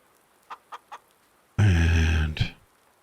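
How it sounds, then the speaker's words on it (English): Rooster crowing loudly and close, a long sustained call ending with a rising squawk, preceded by three short quiet clucks from a farm setting. "There's a rooster."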